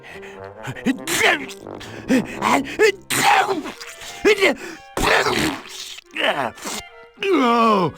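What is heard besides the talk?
sneeze in the video game Toonstruck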